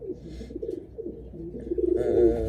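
Breeding racing pigeons and their young cooing in a loft. Soft, repeated coos come close and steady, rising into a louder, fuller run of calls near the end.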